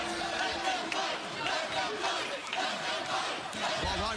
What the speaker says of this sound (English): Well, live crowd here